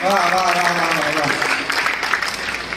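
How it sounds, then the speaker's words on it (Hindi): Applause breaks out from the audience at a Hindi poetry gathering while a voice is still speaking at the start. The clapping then carries on as a dense, moderately loud patter. "एक बार मुझे ताली बजा के आदेशित कर दीजिए।"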